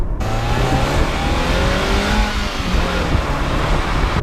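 A 1996 Toyota MR2 engine drones and revs loudly as the car drives along country roads, pitch rising and falling with gear changes, close and continuous.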